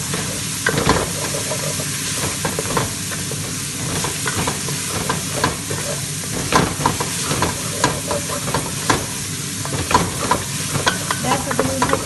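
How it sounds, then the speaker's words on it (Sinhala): Garlic frying in a pan for chicken curry, a steady crackling sizzle with frequent scraping stirs, close and continuous, no talking. "සුදු ලුණු බැදලා සුවඳෙද්දි සුදු ලුණු එකේ සුවඳෙද්දි"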